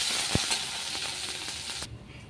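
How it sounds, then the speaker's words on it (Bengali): Ginger and cumin seeds hit hot oil with a steady close hiss and a few crisp pops, then the sizzle cuts off abruptly near the end of the short burst. "এবার আদা জিরা ফোড়ন দিয়ে দিলাম"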